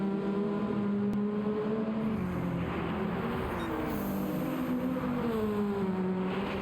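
A 1980s Peugeot race car in a racing video game, its engine note droning steadily and rising and falling through the gears, loud and close with no talk.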